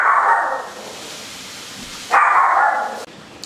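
Baxter the dog barks twice, each time a long loud close bark, with a quiet room in the gaps between them.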